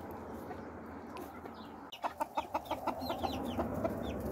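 Chickens and young roosters in a coop clucking in a quick run of short, soft calls after a quiet stretch of low background noise, all fairly faint and at a distance.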